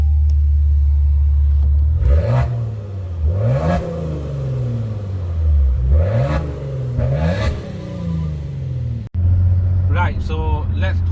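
A Maserati Ghibli S 3.0 petrol engine revs up repeatedly in neutral, rising and falling in several sharp bursts, then settles into a loud, steady idle rumble near the microphone.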